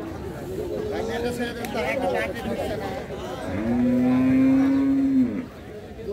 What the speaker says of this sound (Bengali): এগুলো সিন্ধি জাতের গরুগুলো এখানে এই অংশটাতে পাবেন